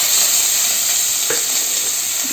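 Thinly sliced onion with a piece of cinnamon and curry leaves frying in hot sesame oil in a pan, a steady loud sizzle throughout with a faint clink, no voices.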